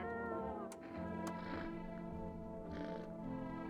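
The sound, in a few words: cat meowing in a video game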